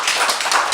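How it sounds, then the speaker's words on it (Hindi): Audience applause for a child at a school testimonial event, a dense, steady patter of many hands clapping close by with no voices over it. "जोरदार तालियां"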